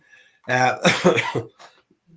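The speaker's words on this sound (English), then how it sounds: "Excuse the cough." A single harsh cough, close and loud, rasping for about a second before a faint throat-clearing tail.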